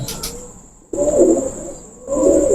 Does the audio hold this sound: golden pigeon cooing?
yes